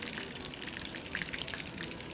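Chicken drumsticks fry in hot oil in a pan with a soft, steady sizzle and scattered small pops, faint and close with no voices.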